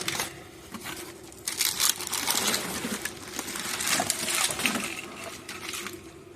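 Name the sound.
opening a mystery box that arrived with parts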